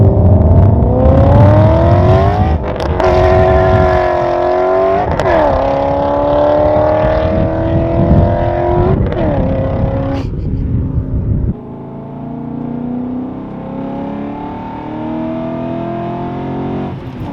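A straight-piped BMW M5 E39 makes loud flybys, its engine note rising through several gear changes with repeated shifts before the rasping exhaust fades off into the distance.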